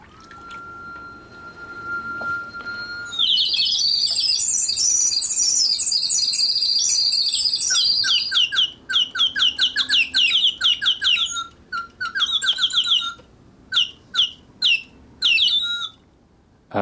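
Water-powered mechanical birds of Heron of Alexandria give a thin whistle, then a loud continuous burst of shrill chirping, breaking into rapid stuttering warbles and short chirps, close and alone with no voices.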